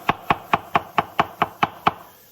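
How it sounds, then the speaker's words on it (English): A knife chopping a mushroom on a cutting board in a home kitchen, nine crisp, evenly spaced knocks in a quick steady rhythm, close and moderately loud with no voices. "I'm just going through with a chopping motion"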